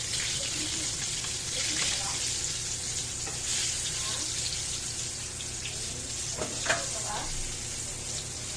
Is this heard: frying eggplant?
yes